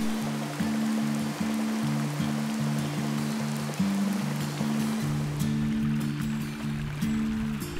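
Rushing water from a small river overflowing its banks across a field after days of rain, a steady broadband roar of flowing water close by with no talk, while a repeating musical melody plays over it throughout.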